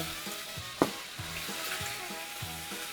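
Garlic stir-fried in a pan with oyster sauce, soy sauce and sugar, a soft steady sizzle under a few stirring scrapes, one sharp utensil clack near the start, close and fairly quiet.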